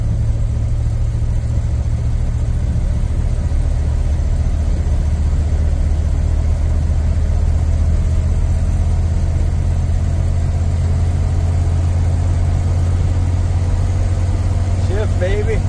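A ramp truck's engine drones loudly and steadily while driving, a constant low rumble close by with little change in pitch throughout.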